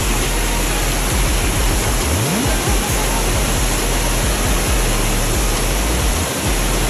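Small backyard waterfall of rushing water in New Hope, New Jersey, a loud, constant broadband roar heard close up with no pauses, swamping everything else throughout.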